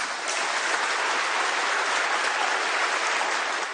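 Applause breaks out after a bill announcement, a dense, even roar of many people clapping that keeps a steady level from start to finish, with no speech over it.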